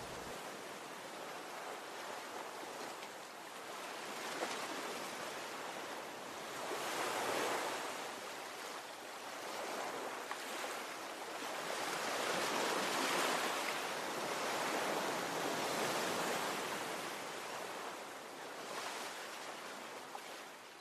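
Ocean waves wash onto a beach in slow repeated surges, a broad rushing roar swelling and fading with light wind noise over the microphone.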